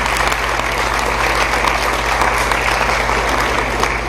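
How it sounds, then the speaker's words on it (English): Steady, dense audience applause fills a speaking contest hall as a judge is welcomed, a continuous wash of many hands clapping at even loudness for the full stretch, with no voices rising above it. "give him a round of applause"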